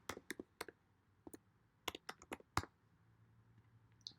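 Typing on a computer keyboard: scattered, close, faint key clicks come in small bursts with short pauses between them.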